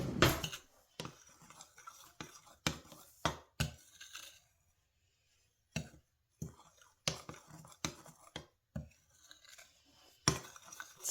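Dry keto sugar-free hot chocolate mix ingredients being stirred together in a bowl, with quiet scraping and tapping strokes in irregular bursts. A brief silent pause falls midway, and the sounds are close and soft.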